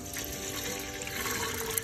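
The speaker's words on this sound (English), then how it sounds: "I'm gonna go ahead and add a little cool water" Cool water pours in a steady, continuous stream, close by and moderately loud, with no voices.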